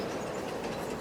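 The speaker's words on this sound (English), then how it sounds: "So now that we've sent the train off," A freight train departing in the farming video game Farming Simulator 22, heard as a steady, loud rolling rumble of rail cars with faint clickety-clack, continuous and alone.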